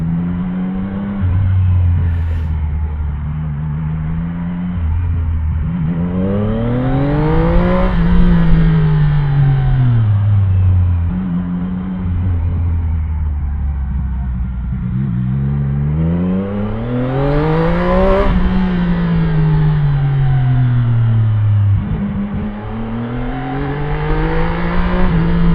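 A CFMOTO 675 NK motorcycle rides through the Makati city streets, its engine close and steady, pitch climbing and dropping repeatedly as it accelerates and shifts, with no talking.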